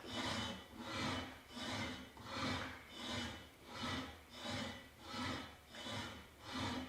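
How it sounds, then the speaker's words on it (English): A table saw fence with a UHMW plastic pad epoxied to its underside slides back and forth over the saw table, giving eight steady, evenly spaced rasping strokes, close and clear with no talking. "I epoxied another UHMW pad on the bottom of the fence here so it can glide smoothly over the table surface"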